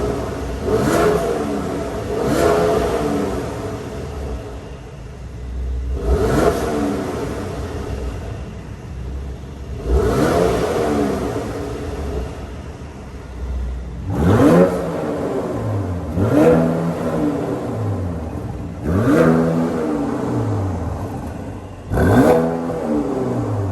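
A 2020 Mercedes C43 AMG with its sport exhaust valve open is revved outside, with a series of sharp throttle blips that rise and fall, spaced at first and then coming in quicker succession, loud and close.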